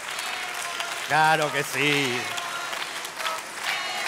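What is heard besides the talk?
audience applauding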